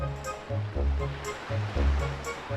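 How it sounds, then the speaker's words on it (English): Ocean waves in a sunny video game summer level roll in with a slow, steady surge and wash, rising and falling every second or so beneath a soft, relaxing soundtrack. "take a second to enjoy this wonderful soundtrack with the ambience of the ocean"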